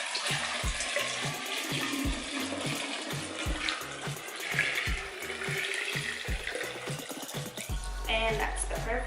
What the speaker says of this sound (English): we're ready to combine all of our ingredients into the 1 gallon fermentation jar